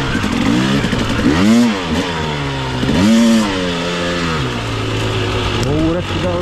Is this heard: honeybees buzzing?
no